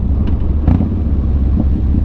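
2006 Harley-Davidson Street Bob cruiser riding on the road, its engine giving a deep steady low rumble mixed with wind buffeting on the microphone, with a couple of faint brief lifts in tone.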